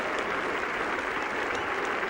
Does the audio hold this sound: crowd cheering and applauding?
yes